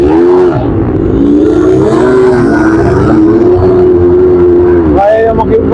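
A car engine revs hard on red sand in Riyadh, loud and close, its pitch swelling and dipping in long sustained sweeps before a sharp surge near the end.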